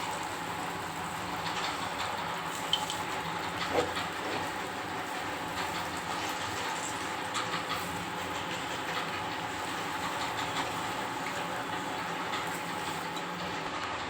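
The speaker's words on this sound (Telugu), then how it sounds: "ఒక కప్పు రవ్వ తీసుకున్నాను మిక్సీ పడుతున్నాను" An electric mixer grinder whirs steadily as it grinds a cup of semolina. A continuous even drone with a gritty rattle runs the whole time, close by, with no talk.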